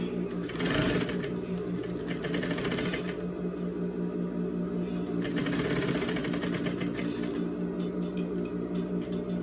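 A sewing machine stitches a seam on a trapeze skirt in two close bursts of rapid mechanical whirring, with a short pause between them and no voices.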